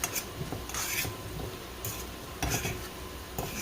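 Onions caramelizing in a pan for a veggie omelette give a soft, steady sizzle, broken by a few scraping stirs of a utensil against the pan, close and fairly quiet, with no talking.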